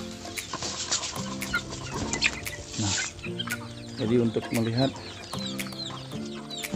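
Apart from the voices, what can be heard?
Ayam Ketawa chickens clucking while being fed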